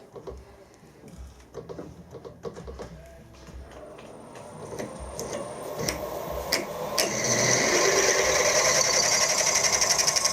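An 8.5 mm drill bit bores into stainless steel, starting as a light, ticking whir and building into a loud, dense grinding that holds steady through the end, with no voices over it.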